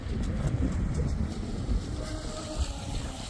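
Strong wind buffets and rumbles steadily across the scene, a low roaring gust noise with faint whistling, no voices.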